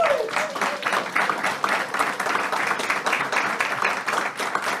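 An audience applauding panel guests at a Friday evening words-and-music community event, with thick, continuous clapping close by, and a voice briefly audible at the start.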